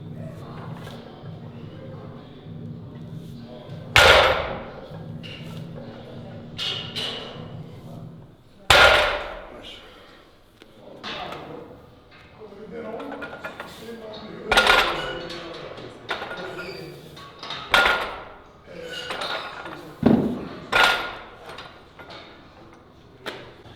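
Bumper and steel weight plates are loaded onto a deadlift barbell, giving repeated metallic clanks and thuds spaced several seconds apart. Sliding scrapes and quieter rattles fall between them, close and fairly loud.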